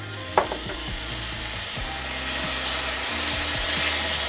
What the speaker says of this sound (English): Okay, that's beginning to caramelize.